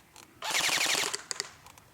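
Elite Force M4 CQB airsoft gun firing a full-auto burst outdoors at a target about 50 feet away, a rapid, loud rattle of mechanical shots lasting about a second, followed by a few separate clicks and pops.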